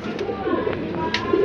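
A big German Beauty pigeon coos softly in a loft among other pigeons, a few low throaty calls close by, with faint background voices and rustling.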